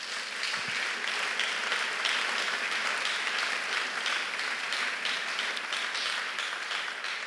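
A church congregation applauding, a steady dense wash of clapping from many hands that holds evenly throughout, fairly distant and without any speech over it.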